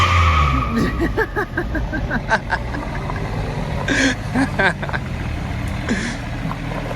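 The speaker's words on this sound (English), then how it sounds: "Oh, man, he's backfiring." A 4x4 van conversion engine running and backfiring, with several sharp pops scattered over a steady engine rumble while people talk over it.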